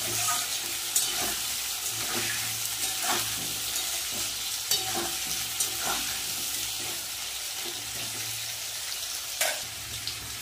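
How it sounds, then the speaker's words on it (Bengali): Papaya and potato pieces fry until browned with a steady sizzle, broken by periodic scraping and stirring taps against the pan. "পেঁপে আর আলুটা একটু আমি ভেজে নেব লাল লাল করে।"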